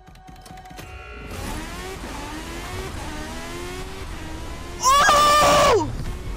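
Hot Wheels cars launch in the Forza Horizon 5 racing game, engines building from a low hum into a steady rising rev, with a loud high screaming burst near the end; voices react briefly.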